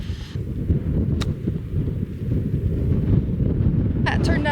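Strong gusting wind buffets the microphone on an open golf course, a steady loud low roar with brief rustling bursts and a quick spoken word near the end.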